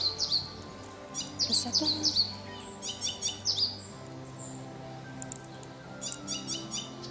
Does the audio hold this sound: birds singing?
yes